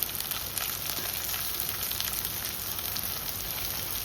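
Curry leaves sizzle and crackle in hot oil for a prawn biriyani, a steady, close, bright hiss with dense spitting pops and no voices.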